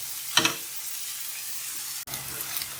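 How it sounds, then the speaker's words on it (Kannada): Onions fry in oil for the tempering of a bitter gourd curry with a soft, steady sizzle. A brief clatter of stirring comes early and a sharp click sounds partway through. "ಚೆನ್ನಾಗಿ ಈರುಳ್ಳಿ ಹುರ್ಕೊಳ್ಳಿ"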